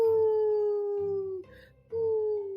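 A voice imitates an owl's hoot with long, slightly falling hooting calls, close and clear, broken by a short breathy pause before the next hoot.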